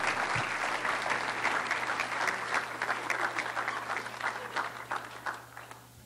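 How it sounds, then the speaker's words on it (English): Audience applause for two student athletes at a community college student achievement awards ceremony: a sustained round of clapping from a moderate crowd in an indoor hall that slowly thins and fades toward the end. "one more round of applause for both of these great student athletes"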